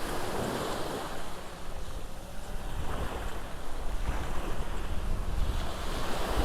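Steady wash of sea surf breaking at the shore, mixed with gusting wind buffeting the microphone, continuous and fairly loud throughout, with no voices.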